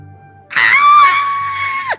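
A player voice imitates a high-pitched shriek in a tabletop role-playing session: one sustained, piercing scream lasting over a second, loud and close, ending in a sharp downward break.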